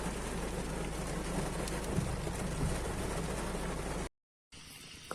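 Heavy rain pouring down outdoors, a dense, loud, steady roar of drops with a deep rumble underneath that drops out briefly to silence near the end before resuming.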